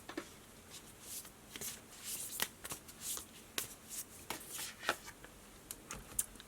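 A deck of tarot-style reading cards being shuffled by hand, with a steady run of soft riffling flutters and crisp card snaps, close and fairly quiet, with no talking.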